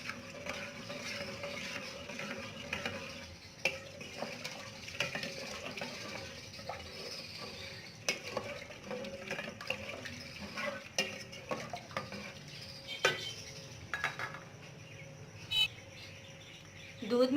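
Milk powder is stirred into milk heating in a pot, with soft repeated spoon scrapes and clinks against the metal over a low bubbling simmer, quiet and close.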